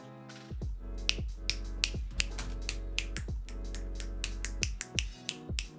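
Repeated finger snaps, about a dozen sharp clicks in an uneven rhythm, heard close and clear over a steady low hum while active noise canceling on Sonos Ace headphones runs.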